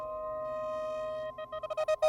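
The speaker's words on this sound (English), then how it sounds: "That's an Outtie phone." An Outtie phone rings in the TV show Severance: an electronic tone holds steady, then breaks into quick beeping pulses that grow louder and faster toward the end.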